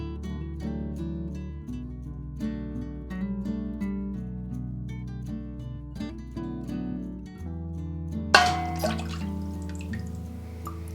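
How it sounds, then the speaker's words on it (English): Water running into a pot from a tap, a close gurgling pour whose pitch shifts as it fills, ending with a brief clatter of handling near the end. "I'll fill it back up with water."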